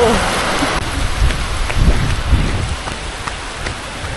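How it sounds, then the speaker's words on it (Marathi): Steady heavy rain pours down at Revdanda beach with a dense hiss, with scattered drops splattering close by and a low rumble underneath. "पाऊस लागायला लागला"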